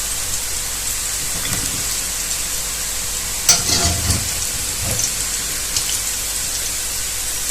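Pork cracklings frying in lard in a pot, a steady dense sizzle and crackle throughout, with a few louder stirring scrapes and bubbling bursts midway.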